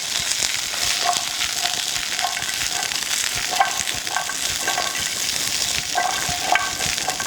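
Butter beans and green beans fry in sesame oil in a pan, giving a steady, close sizzle with light crackles and occasional stirring, no talking over it.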